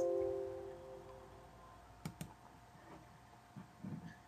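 Keystrokes on a computer keyboard while searching a plugin list in QGIS mapping software: a few faint, sparse clicks over a quiet room hum, close but soft.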